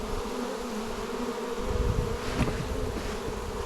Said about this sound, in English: They are buzzing because they know their hive has been messed with.